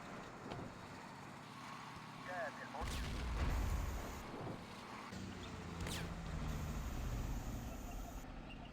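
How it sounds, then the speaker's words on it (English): Mortar rounds landing in a Modern Warfare campaign battle at an airbase, heavy booming thuds and rumble mixed with vehicle engine noise and a speaking voice, moderately distant and sustained. "Getting mortars on us."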